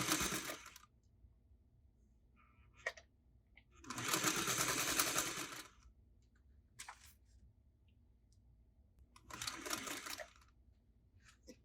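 A vintage Singer 301 sewing machine stitches in three separate runs of quick, steady needle chatter, close and fairly quiet, with soft handling clicks in the gaps.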